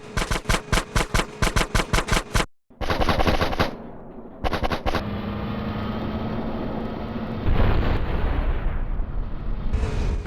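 Rapid machine-gun bursts rattle in quick repeated volleys in a GTA San Andreas mission, broken by short gaps, before giving way to a sustained heavy roar and rumble of explosions that swells loudly near the end.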